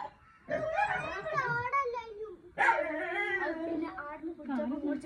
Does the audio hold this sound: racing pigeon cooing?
no